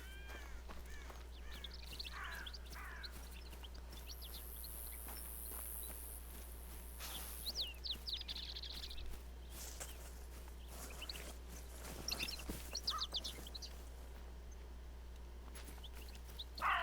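Birds calling in theHunter: Call of the Wild game wilderness, with scattered chirps and a few clucking, fowl-like calls over a steady low ambient hum, moderately distant and intermittent.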